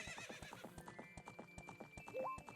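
Rhythmic clip-clop of horse hooves galloping in the video game Zelda: Ocarina of Time, steady repeated beats with a brief neigh near the end, no talk.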